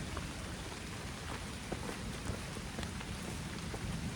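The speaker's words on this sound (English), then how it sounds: "Rain's picking up." Steady rain falls on a forest hiking trail during a thunderstorm, a dense even hiss with scattered distinct drop taps, constant and moderately loud with no voices.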